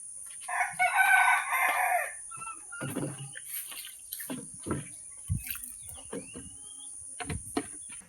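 A rooster crows once, loud and close, on a farm, followed by scattered clucks and softer chirps from nearby chickens and other fowl.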